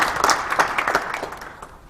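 A church congregation applauding at a presbytery service in a sanctuary, a short burst of lively clapping that is loudest at first and then tapers off.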